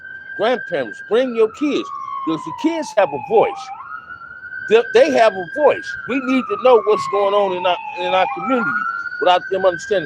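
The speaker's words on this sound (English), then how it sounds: "Sorry about the siren, but I had to step outside" Wailing emergency vehicle siren passing outdoors, its tone sweeping steadily up and down and running through the whole stretch beneath a man's continuous nearby speech.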